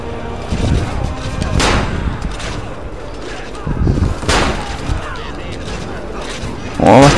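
Cannon fire in the video game Assassin's Creed Revelations, several loud booming blasts with mechanical clanks and creaks between them, set against continuous battle noise.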